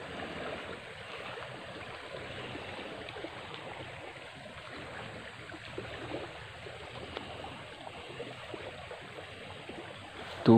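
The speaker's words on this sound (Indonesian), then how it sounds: "ini adalah terjangan banjir" Floodwater rushes across eroded, broken ground beside a deep, swollen river, a steady broadband roar that stays loud and unbroken throughout with no voices.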